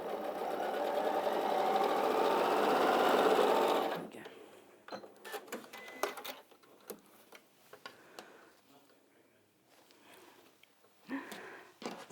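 An Elna 680+ sewing machine runs a fast, even stitching burr along fabric edges for about four seconds, then stops, leaving light ticking, handling clicks and brief speech.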